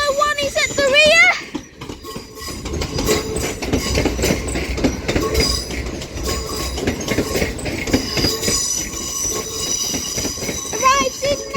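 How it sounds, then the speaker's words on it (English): An Avanti West Coast train to London Euston from Chester and Holyhead, unit 805001 at the rear, arrives at Crewe with loud wheel squeal, clattering rail noise and rumbling, a brief horn-like tone at the start and a voice talking partway. "Avanti West Coast service to London Euston from Chester and Holyhead. And 805001 is at the rear."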